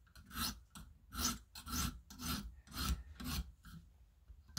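Rhythmic back-and-forth rasping of an M390 steel knife blade stroked across a sharpening stone, about nine even strokes close up with brief gaps between them, alone with no talk.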